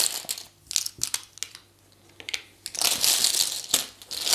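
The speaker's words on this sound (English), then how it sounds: "All markers go back to the bag." Plastic game markers from the Warp's Edge board game tipped back into their bag, giving bursts of crinkling, rustling rattles at close range, loudest and most continuous toward the end.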